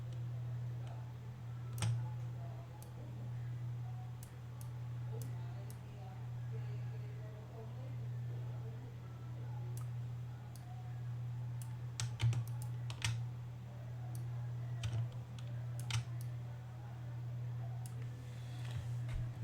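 Keyboard key presses and mouse clicks on a computer during design software work, sparse sharp ticks scattered over a steady low hum, fairly quiet and close.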